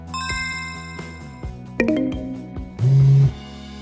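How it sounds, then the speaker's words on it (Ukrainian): A series of electronic beeps and chimes from a World4Carp Sensor X WC360 carp-fishing bite alarm, several short tones followed by a louder sustained beep, with no talking. "Проклювання пейджер оповіщає миготливим ЛЕД світлодіодом, звуковим сигналом або вібрацією."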